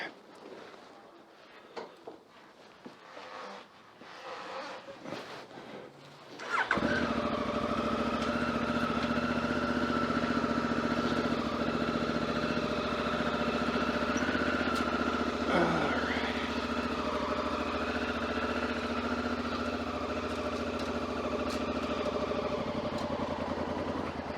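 A Honda Africa Twin motorcycle fires up after a few clicks and handling noises, then settles into a steady, loud, close idle that runs without a break, with a brief blip partway through.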